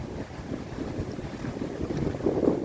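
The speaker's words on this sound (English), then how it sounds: "It's more windy than anything else." Gusty wind buffets the microphone on a cold Lake Michigan beach at Pilgrim Beach, rising and falling in low rumbling bursts with a faint wash of waves behind.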